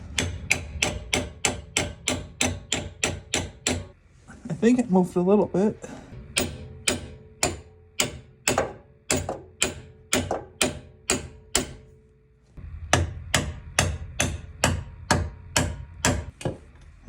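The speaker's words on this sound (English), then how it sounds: "And I'm going to take this socket and the hammer." Repeated metal-on-metal hammer blows on a socket while working on a 2005 Honda Element, struck in quick rhythmic bursts with a pause where someone speaks briefly before the steady hammering resumes, loud and close.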